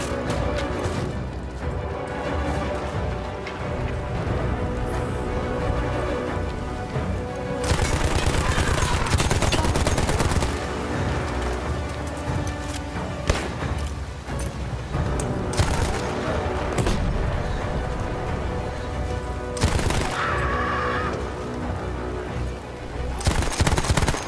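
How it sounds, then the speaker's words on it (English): Heavy gunfire in the video game Battlefield 1, dense bursts of machine-gun and rifle shots with crashes and impacts layered into a loud, near-continuous battle din lasting throughout. "Wow, I'm under heavy fire."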